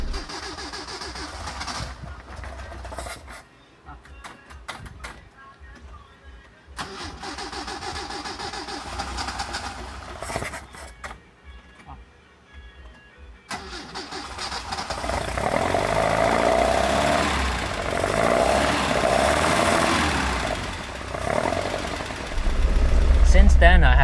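An Alfa Romeo 1750 GTV sits quietly through a stretch of faint rustling and handling noise before its engine cranks, catches and settles into a loud, steady, close-up idle that carries on to the end.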